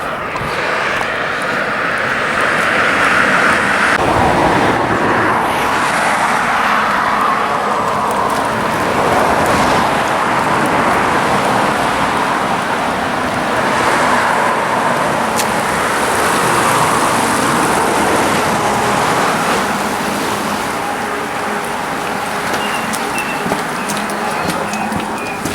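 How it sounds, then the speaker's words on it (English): Cars pass along a road near the 525, a broad roar of traffic swelling and fading as vehicles go by one after another, fairly loud and continuous with a windy outdoor hiss. "No more of the cars going past interrupting my banter."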